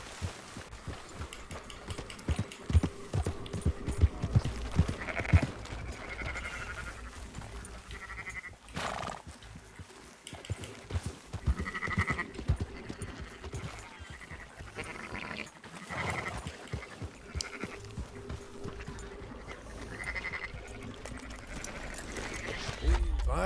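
Sheep bleat at intervals in the open-world western game Red Dead Redemption 2, their calls rising over a steady background of in-game ambience and low rumble.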